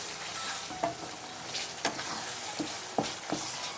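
Vegetable bhaji masala frying in a pan, a steady close sizzle with a few sharp scrapes of stirring spaced through it, no voices.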